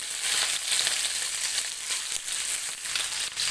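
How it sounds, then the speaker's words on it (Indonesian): Chicken pieces fry in hot oil until golden brown, giving a loud, continuous crackling sizzle with scattered sharper pops and no speech. "lalu kita goreng ayam hingga berubah warna menjadi kuning kecoklatan"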